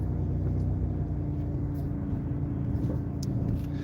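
A car rolls slowly through a busy downtown area, its engine a steady low rumble close by with faint traffic noise around, no talking.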